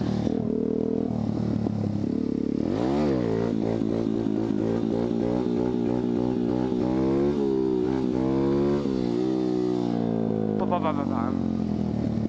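A 125cc dirt bike engine revs hard, climbing and falling in pitch through repeated throttle bursts during a wheelie attempt, with voices talking over parts of it.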